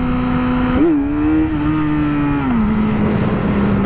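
A Yamaha R6 motorcycle engine holds a high steady rev with a slipping, burning clutch, the pitch wavering briefly and then sagging slightly, loud and close.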